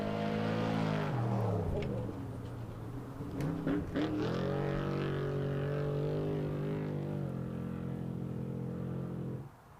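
A Trophy Truck off-road racing truck engine at a desert race revs and drones, pitch sliding down then climbing again as it passes, loud and fairly close, then cutting off abruptly.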